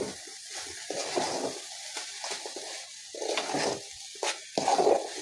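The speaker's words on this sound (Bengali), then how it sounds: "এখন এটা একটু আমি ভালো করে মিশিয়ে নেব।" Fried sesame seeds being stirred into a mixture for homemade pitha, a series of scraping and clattering stirring strokes in a pan, close and moderately loud, with no talk.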